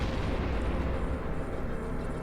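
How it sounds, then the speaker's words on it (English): Ship weapons fire in the space game EVE Online as a dense, continuous barrage of booming blasts, loud and steady with no talk over it. "Orbit, weapify, and start shooting."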